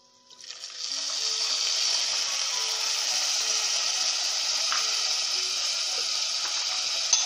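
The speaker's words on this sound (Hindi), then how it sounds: "साथ ही हम पानी ऐड करेंगे।" Water pours into a pan of golden roasting vermicelli for sheer khurma, starting abruptly with a hiss and then running in a steady, close gush.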